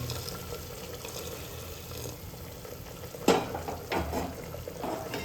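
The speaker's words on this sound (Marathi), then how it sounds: "गरम पाणी केलंय तुम्हाला ते टाकायचंय त्याच्यात" Hot water poured into a pressure cooker of mutton, a soft steady liquid rush with faint sizzling, then a few sharp clinks of metal utensils near the end, close and moderately loud.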